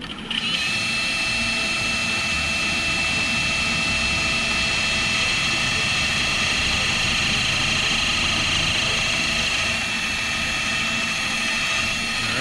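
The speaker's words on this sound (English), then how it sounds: "Remember, with steel you don't have to go fast with the drill." An electric drill bores into steel sheet metal during rust repair on a 1970 Nova, a loud continuous high whine with a grinding edge that holds steady for the whole stretch, close by and with no talking.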